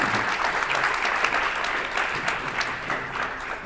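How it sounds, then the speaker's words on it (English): A conference audience at a panel discussion on the future of money applauds the speakers on the podium, a steady, dense wash of many hands clapping close by for the whole stretch. "And maybe we give a big applause to the podium right now."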